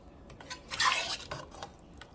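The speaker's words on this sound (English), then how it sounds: "So I'm stirring this up so I can get an even flavor with all the seasoning" A spoon scrapes and clinks against a pot while stirring boiling chicken stew, a few light metallic taps building to a brief louder scrape in the middle, with no talking.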